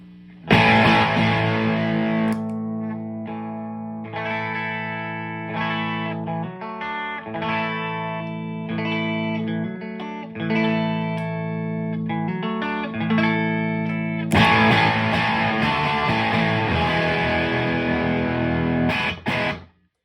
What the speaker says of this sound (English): what you're hearing there is when I click the overdrive pedal on, it's giving me clean tones